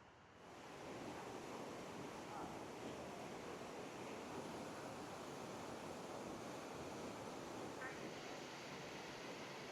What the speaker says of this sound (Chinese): 我來看這裡另外一個瀑布